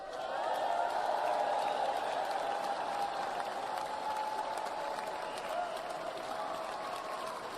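Steady applause from a large crowd at Donald Trump's presidential inauguration, loud and continuous throughout, with a dense patter of many hands clapping at once.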